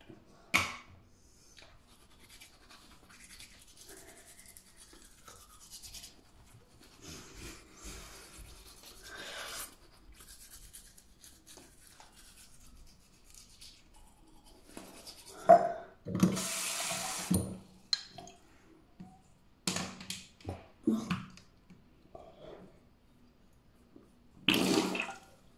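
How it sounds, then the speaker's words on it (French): Someone brushing their teeth at a bathroom sink with running water: quiet scrubbing and faint rubbing give way to short, louder bursts of tap water splashing into the basin, close by and with no speech. "Je vais me brosser les dents."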